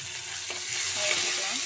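Handfuls of mint and coriander leaves sizzle and crackle in hot oil in a kadai as a spiced green egg gravy is cooked, with a steady close frying hiss and occasional stirring.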